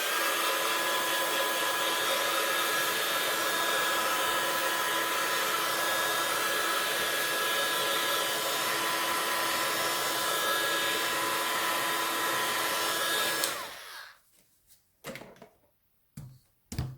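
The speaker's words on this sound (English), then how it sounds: "Now I'm going to set that with a heat tool." An embossing heat gun blows steadily while setting ink on a card, a loud, even whirring hiss for about thirteen seconds, then it cuts off, followed by a few soft clicks and handling knocks.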